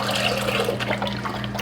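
Vegetable broth is poured from a container into a pot of white jasmine rice, making a steady, close gush of liquid that lasts just over a second.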